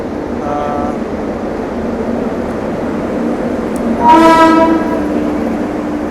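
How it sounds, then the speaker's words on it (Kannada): The Gorakhpur–Anand Vihar express train, hauled by a WAP-5 electric locomotive, rumbles steadily nearby at a platform with a low mechanical drone, and a loud horn blares briefly toward the end. "ಎಕ್ಸ್ಪ್ರೆಸ್ ಬಂತು ನೋಡ್ರಿ"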